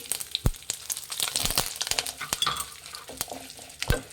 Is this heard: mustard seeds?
yes